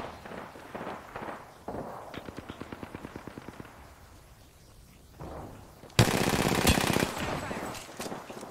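Rapid automatic gunfire in Apex Legends, with R-99 and Havoc weapons: a quick rattling burst early on, a pause, then a loud, dense volley near the end, with brief talk at the start.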